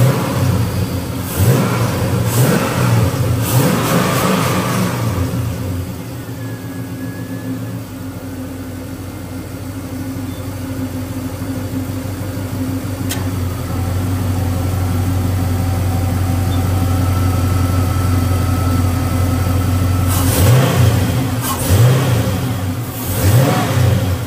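A car engine revs up repeatedly in loud bursts at the start and end, settling to a steady idle in between while the air conditioning compressor loads it, with a low hum holding underneath.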